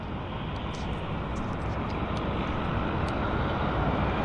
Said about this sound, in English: It's a WestJet on the roll.